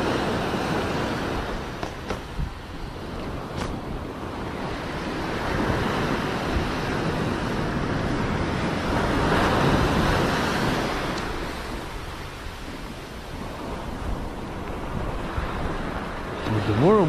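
Rough surf on a New Jersey beach during surf fishing, waves rolling and crashing in long swells, mixed with gusty wind buffeting the microphone.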